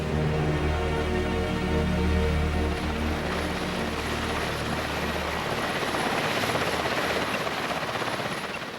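A helicopter drones steadily with a thick, rapid rotor chop that stays loud and close throughout, with a faint whine above.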